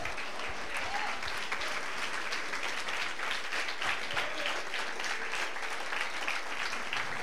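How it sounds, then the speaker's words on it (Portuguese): Standing congregation applauding in a church service, a broad continuous roar of clapping from many hands, fairly distant and even throughout. "Quantos podem aplaudi-lo de pé?"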